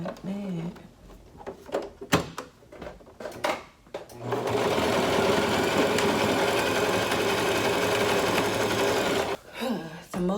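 A sewing machine stitches a wig, running loud and steady for about five seconds, then stopping, with brief handling clatter and a voice speaking before and after the run.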